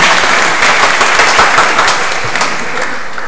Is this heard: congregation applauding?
yes